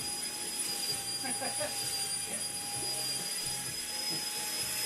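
A Deerma CM800 dust mite vacuum cleaner runs continuously with a steady, high-pitched motor whine at moderate distance, while people talk quietly over it.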